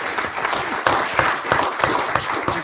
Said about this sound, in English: We want one more applause for the end of our accreditation.